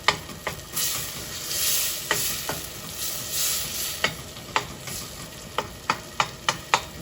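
A wooden spoon stirs zucchini and tomato soup in a hot pot, with an even sizzle under repeated sharp scraping knocks against the pan, coming faster toward the end, close by.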